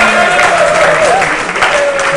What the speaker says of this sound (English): So please give an applause for yourself for coming here.